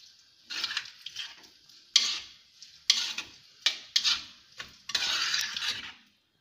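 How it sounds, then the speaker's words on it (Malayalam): A utensil stirs and mixes fish curry ingredients in a pan, giving a series of close scraping and clinking strokes in irregular bursts with short pauses between them. "ഇതെല്ലാം കൂടി നന്നായി ഒന്ന് മിക്സ് ചെയ്യുക."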